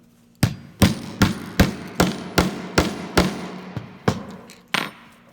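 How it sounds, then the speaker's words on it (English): A hammer drives a rivet snap onto an RV skirting stud with about ten sharp metallic blows at a steady, slightly slowing pace, close and loud with no talk. "now we're going to drive that rivet deeper and then just tighten all that up"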